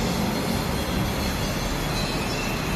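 Steady, loud rumble and rattle from inside a moving elevated electric sky train, continuous throughout with no voices.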